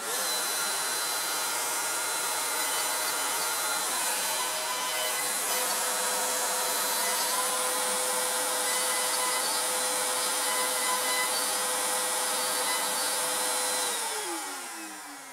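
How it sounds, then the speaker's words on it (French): A CNC machine drills holes in a wooden tool-box storage column, holding a steady, high-pitched whine for over ten seconds with a tone that shifts slightly before winding down at the end. "je vais lancer le programme qui est perçage des trous pour le 5 bas"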